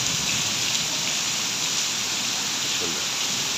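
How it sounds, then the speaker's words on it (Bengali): Heavy rain pours down over a city in windy monsoon weather, a dense, unbroken hiss of water drumming on surfaces throughout, close and steady, with no voices heard. "মুষলধারে বৃষ্টি হচ্ছে।"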